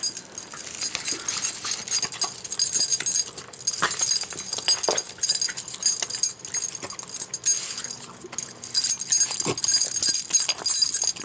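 A dog wolfs down meat very fast, with continuous noisy chewing, smacking and gulping close up, plus occasional sharp clicks and jangles throughout.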